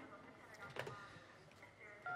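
Telephone dialing tones in a quiet police-station scene, a few short beeps pressed in quick succession, faint and close.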